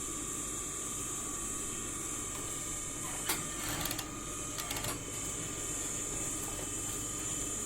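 A sewing machine runs steadily while double-stitching a repair to the crotch of denim jeans, a continuous mechanical whir with a few brief louder bursts in the middle.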